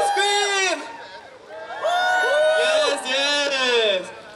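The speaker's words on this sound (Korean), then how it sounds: "소리 질러!" A concert audience at a K-POP street performance on Hongdae's Red Road shouts and cheers in loud, overlapping vocal bursts, swelling twice over a few seconds with a brief dip between.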